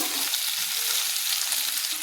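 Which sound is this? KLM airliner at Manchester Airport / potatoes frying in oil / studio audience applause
potatoes frying in oil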